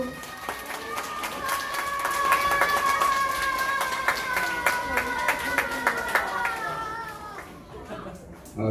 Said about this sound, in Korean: 자, 나오실 때 박수.